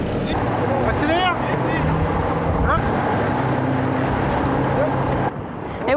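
A motorboat engine drives hard across open sea during a rescue, loud and steady under buffeting wind noise, with people calling out over the roar.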